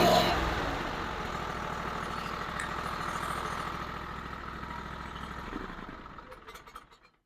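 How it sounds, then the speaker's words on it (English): A 13.5hp engine on a Chinese mini skid steer idles with a steady, close mechanical chug for several seconds before winding down and cutting off at the end. "start the engine."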